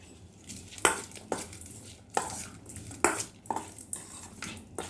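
A utensil scrapes and knocks against a pan in irregular strokes, mixing tempering into gojju avalakki (flattened rice), close and fairly quiet, with faint kitchen clatter and no speech.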